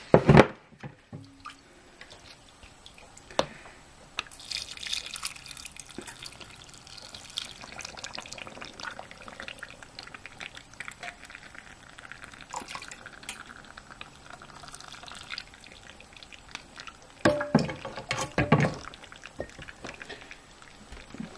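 Brine for sweet coleslaw pours into a canning jar with soft splashing and trickling, steady at moderate volume, then a louder burst of liquid near the end.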